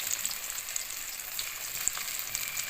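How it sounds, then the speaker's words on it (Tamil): Raw banana slices fry in a pan over a medium stove, giving a steady, even hiss of oil with a faint tick or two, without speech. "இந்த மாதிரி ஃப்ரை பண்ணணும்."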